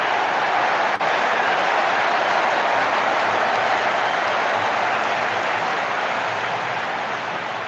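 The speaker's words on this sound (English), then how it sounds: "Wonderful 50, and the crowd applauds." A cricket stadium crowd at a South Africa A versus Sri Lanka A one-day match applauds a batter's fifty, a dense, steady wash of clapping heard from a distance that runs continuously, with faint commentary beneath.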